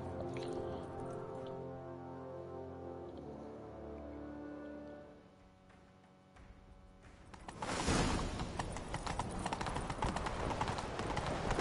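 Horse hooves gallop during a chase in The Witcher 3: Wild Hunt, a rapid clip-clop that surges in over the game music and grows louder and busier toward the end.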